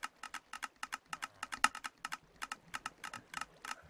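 Minecraft mechanisms click in a rapid, irregular run of light, close ticks that continue for several seconds.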